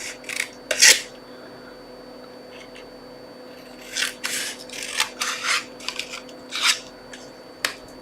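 Scissors snip and rasp through folded card in several bursts, a quick pair early on and then a run of close, crisp cuts after a pause, with no talking.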